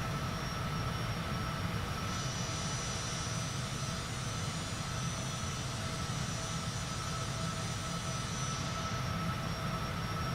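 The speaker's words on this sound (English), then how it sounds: "We're gonna retract our landing gear." Steady cockpit drone of a Cessna Citation CJ4 business jet climbing after takeoff in Microsoft Flight Simulator, a constant broadband engine and airflow roar with a subtle shift in tone as the landing gear retracts.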